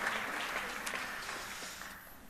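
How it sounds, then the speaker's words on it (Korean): A church congregation claps to welcome a visitor, a moderate, even wash of applause from across the room that tapers slightly toward the end. "우리가 박수로 한번 환영하겠습니다"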